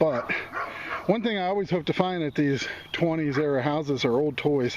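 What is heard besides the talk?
dog next door barking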